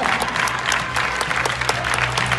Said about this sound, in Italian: Un bel applauso per Giada Stanis